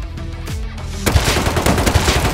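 Rapid gunfire in the video game Rust at close range, a dense burst of loud cracking shots after a brief quieter moment, with no talking.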